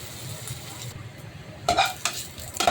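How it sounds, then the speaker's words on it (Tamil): Onion and garlic sautéed in a pan give a soft steady sizzle, broken by a few close clinks and scrapes of a spoon stirring against the metal. "ஆனால் இது கொஞ்சம் நீங்கள் அதிகம் போட்டு நல்லா வந்து வதக்கிடணும்."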